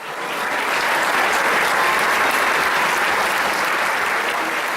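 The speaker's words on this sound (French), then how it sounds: "Entre tableaux théâtrales et les performances de la chorale, les applaudissements fusent." Loud, dense applause from an audience after a choir performance at a theatrical show in Saint-Paul-lès-Dax rises quickly and holds steady and full.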